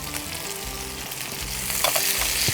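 Mixed vegetables for Bengali shukto sizzle and fry in a pan while being stirred, a steady close crackle with scraping stir strokes and no talking.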